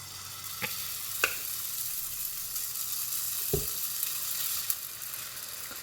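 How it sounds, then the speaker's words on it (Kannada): Dibba rotti batter goes into an oiled non-stick pan and sizzles steadily, with a few sharp clicks and taps over the constant frying hiss. "ಇದಕ್ಕೆ ಬ್ಯಾಟರ್ ಹಾಕ್ಕೊಳ್ಳೋಣ."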